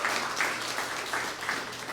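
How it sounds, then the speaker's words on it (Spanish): Brief burst of audience applause during a talk, moderately loud and washing in uneven swells over a low background hum. "Dame un aplauso."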